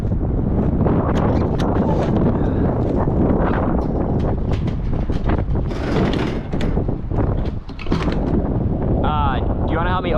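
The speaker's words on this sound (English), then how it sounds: "it is a windy girl out here" Strong wind buffets the microphone outdoors in Alaska, a loud continuous roar with gusty swells, voices talking over it and a brief mechanical whine near the end.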